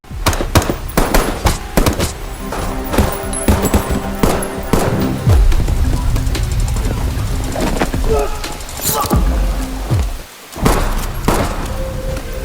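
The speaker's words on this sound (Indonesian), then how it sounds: "tembak-menembak pun pecah" Rapid bursts of gunfire crackle repeatedly in a movie shootout over a loud, busy action soundtrack, with sharp shots scattered throughout and a brief lull near the end.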